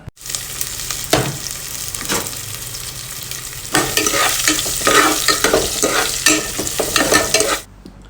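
Bay leaf, cinnamon, peppercorns and coconut pieces fry in a pan for a coconut biryani, giving a steady close sizzle with sharp scraping stir strokes that grow busier and louder in the second half, with no voices.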